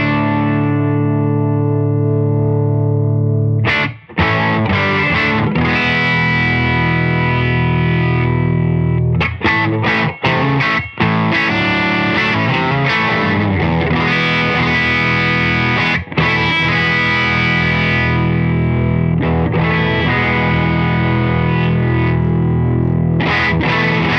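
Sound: guitar through dual overdrive pedal

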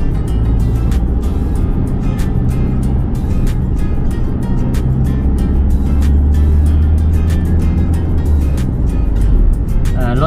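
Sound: traffic jam of cars on a Bangkok road

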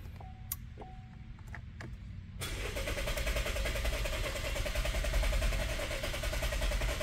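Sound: Chevy Malibu engine cranking without starting

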